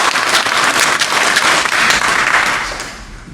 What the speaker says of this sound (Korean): 우리 감사의 박수 한번 드립시다.